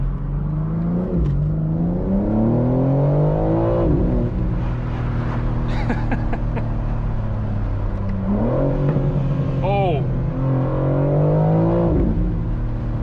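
Sports car engine in maximum aggressive mode, likely a BMW M-series, revving hard and climbing through gears with rising pitch sweeps and shift breaks, loud and close, with a brief exclamation.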